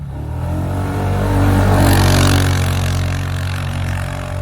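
Motorcycle engine revving close by, a loud droning roar that climbs in pitch and intensity around the middle, then eases back while still running strongly.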